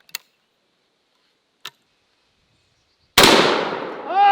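A single-shot 10 gauge shotgun loaded with a 3.5-inch shell of double-aught buck fires one sharp, loud blast with a fading tail, preceded by a couple of faint mechanical clicks in near silence.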